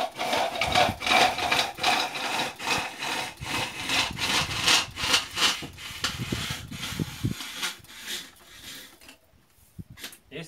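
Hand-operated cutter slicing recycled plastic bottles into 3 mm strips for broom-making, giving a steady run of rhythmic rasping, sawing strokes up close that thin out and stop near the end.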